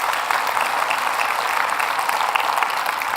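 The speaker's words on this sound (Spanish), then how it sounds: "de dar una aplauso al Señor, que Él se lo merece" A church congregation applauds during a Spanish-language sermon, a loud, even spread of clapping that continues steadily without any voices over it.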